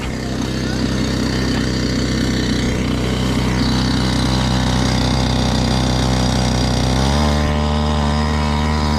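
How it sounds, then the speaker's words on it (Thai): A boat engine runs loud and near, its pitch shifting as it revs up late on, with a steady mechanical hum throughout. "เร่งเครื่องหน่อยนะครับ"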